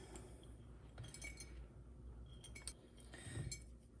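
Vanilla beans drop into a glass jar with a few faint, close clinks and light taps scattered over a low background hum, no voices.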